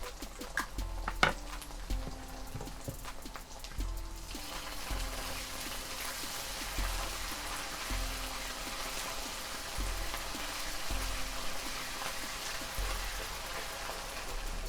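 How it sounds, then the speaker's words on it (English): Watered-down tomato paste fries for a prawn karahi masala, a faint crackling sizzle under repeated rhythmic scraping and stirring against the pan, with no voices. "Stir through the watered down tomato paste and fry for around 30 seconds to a minute to remove the bitterness."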